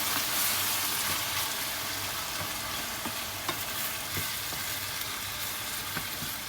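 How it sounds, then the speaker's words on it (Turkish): Tomatoes sauté in a pan with a dense, continuous sizzle close up, and soft spoon scrapes and taps now and then. "Şimdi domatesimi ilave edeceğim. Domatesimi de biraz kavuracağım."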